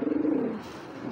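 A pigeon gives a short, close, throaty coo that fades after about half a second.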